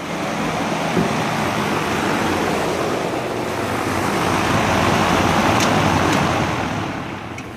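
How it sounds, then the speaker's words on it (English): A small squirrel cage fan inside a shop band saw gives a loud, steady whooshing drone with a rough rushing texture, running continuously up close before easing slightly at the end. "That thing in there is noisy as heck."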